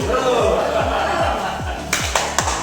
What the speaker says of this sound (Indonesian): Coba kita tepuk salun dulu ya.